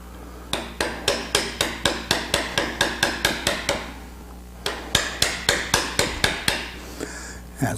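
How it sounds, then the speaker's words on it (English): A sharp chisel is driven into wood with a hammer in quick, evenly spaced strikes, about fifteen in a row, then a short pause and another run of about ten, loud and close with no talk. "Got a really good sharp chisel."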